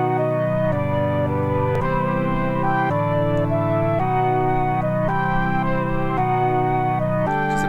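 Mellotron playing a sustained chord part, with chords that change every second or so in a steady, continuous pad, close and loud with no voices.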